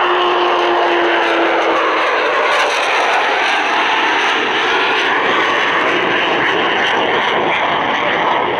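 The Avro Vulcan XH558 delta-wing bomber roars through an air display at Waddington, its engines making a loud, continuous broadband rush with a whining tone at the start, close and sustained throughout.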